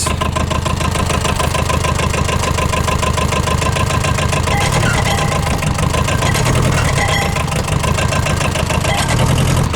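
Ransomes Motor Triple Mk4 ride-on gang mower engine running steadily at idle, a loud continuous mechanical chatter and low throb filling the whole span with no talk.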